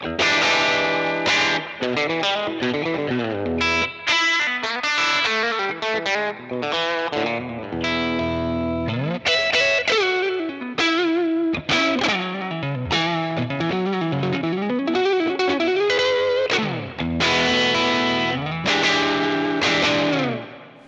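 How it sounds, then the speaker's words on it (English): Electric guitar with bridge pickup plays a continuous run of chords and notes through the padded input of a UAD Fender Tweed '55 5E3 Deluxe amp emulation, loud and driven with a gritty, saturated edge. "now let's listen to the second input, the padded input"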